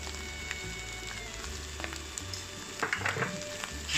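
Osmanthus eggs being stir-fried in a wok with a steady sizzle, scraping stirs and occasional crackling spatters that grow louder near the end, with no voices.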